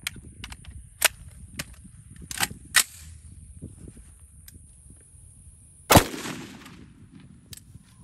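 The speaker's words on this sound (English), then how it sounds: "take a shot with the Alexander Arms 50 Beowulf" An Alexander Arms .50 Beowulf rifle firing a 350-grain FMJ round outdoors, heard as one sharp, loud report near the end, with scattered quieter cracks and clicks around it and no talk.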